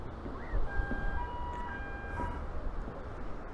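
A faint, steady two-tone warning siren from a lift on a tower at Blackpool North Pier beeps in the distance over low background rumble, alternating between two pitches.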